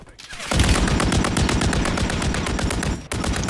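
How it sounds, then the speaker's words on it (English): Sustained automatic gunfire in the video game Call of Duty Warzone, loud and close, a dense rapid rattle that runs for over two seconds, breaks briefly, then resumes, with no voices over it. "Oh, they're sniping."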